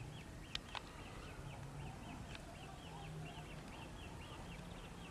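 Coots calling from a lake, a series of short repeated nasal notes at steady intervals over a low outdoor rumble, fairly distant, with a couple of sharp clicks near the start.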